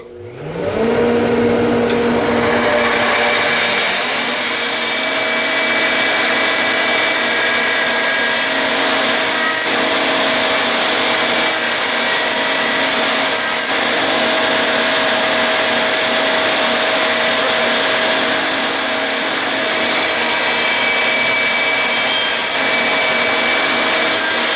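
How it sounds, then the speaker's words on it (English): A jointer's spinning cutter trues the edge of a wooden board during cabinet construction, a loud continuous whine that starts up and holds steady throughout with no talk. "It spins, and as it gets fed through, it just takes a fraction of an inch off the edge of the board"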